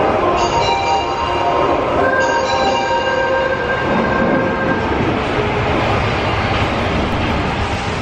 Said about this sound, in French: Ah, le métro arrive, attention.